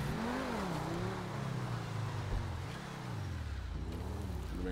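A car engine in GTA 5 Online revs up and down in smooth rising and falling sweeps, loud and close, with a steady motor hum throughout.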